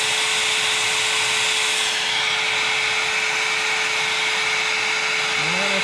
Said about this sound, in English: So you just put your heat gun on there.